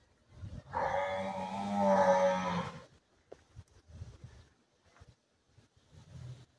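Gir cattle in an open cowshed, one long loud moo lasting about two seconds, followed by quieter shuffling and faint knocks around the shed.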